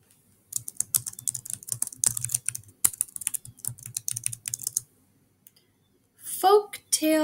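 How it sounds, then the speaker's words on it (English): Close computer keyboard typing in quick bursts of light clicks, separated by short pauses, with a voice speaking over it. "type your name here."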